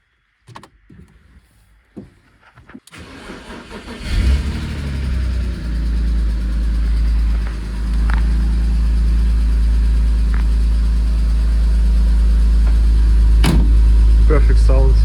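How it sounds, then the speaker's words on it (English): A BMW E46 engine, just refitted after a subframe restoration, cranks and catches at close range, then idles loudly and steadily before being blipped with a few light revs. Faint knocks come before the start. "Finally, we will give it a little bit of revs."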